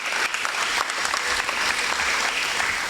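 Continuous audience applause at a school prize-giving day, broad and steady, filling the room without breaks and with no speech over it.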